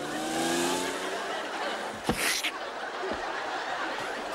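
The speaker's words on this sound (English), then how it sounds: "the grasshopper drove his sports car to Florida" A sports car accelerates and pulls away, its engine note sweeping past with a brief tire squeal, heard alone without talk and fading afterward.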